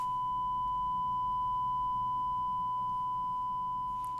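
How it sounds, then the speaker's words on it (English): A steady pure sine tone from a tone generator app holds for about four seconds alone, a single unbroken pitch with a faint extra upper line, ending abruptly. "I have a little app here which will produce a tone. There we go. There we go. That's a sine wave."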